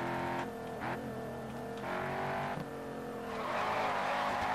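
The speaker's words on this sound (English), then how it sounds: "Drifting is key as well." A race car in the Grid Autosport game drifting through a turn, its engine droning and revving while the tires squeal in several sustained bursts, ending in a louder, harsher skid.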